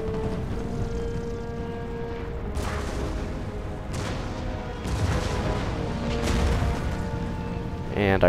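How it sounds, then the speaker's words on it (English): Cannon and artillery fire in an Empire: Total War battle: four or five deep booms at irregular intervals over a steady backdrop of game music and battlefield din. "our cannons are starting to kill them pretty well"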